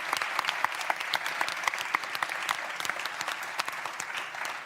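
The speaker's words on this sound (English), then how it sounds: "Let's give them a big round of applause." An audience at a maritime shipping conference applauds the panelists, a steady patter of many hands clapping that continues evenly and then tapers off slightly.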